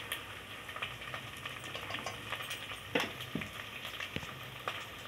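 Ground coriander and turmeric with salt sizzle and crackle in hot oil in a pan for aloo palak sabzi, a steady soft frying hiss with occasional sharper pops and stirring clicks.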